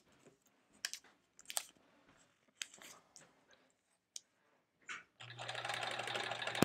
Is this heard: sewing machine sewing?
yes